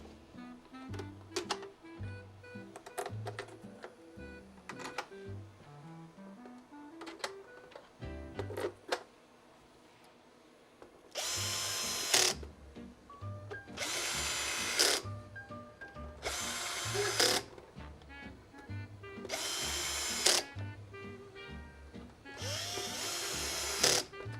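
Power drill driving screws back into a vintage game console, five short loud whirring bursts spaced a few seconds apart over quieter background music.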